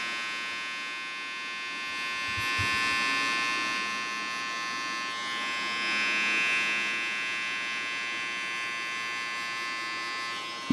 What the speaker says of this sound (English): Now I closed my clipper